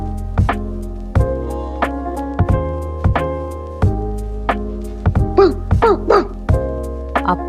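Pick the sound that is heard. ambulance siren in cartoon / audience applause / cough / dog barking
dog barking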